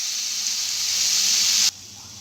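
Broad beans (chikkudu kaya) frying in a pan give a loud, bright continuous sizzle that swells slightly, then cuts off abruptly near the end, leaving a much quieter hiss.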